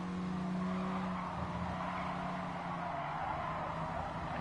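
A race car in Gran Turismo Sport, a Renault Sport in yellow livery, pulls hard at full throttle with a steady engine drone and tyre noise, heard alone without talk.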